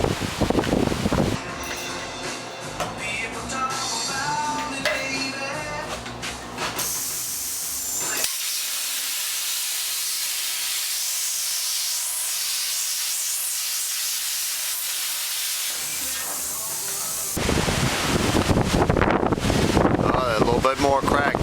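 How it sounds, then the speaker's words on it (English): Strong wind from Hurricane Irene on the Cape roars as a broad steady hiss, swelling into a long heavy gust mid-way, with a voice talking over it at the start and end. "We did have a good gust."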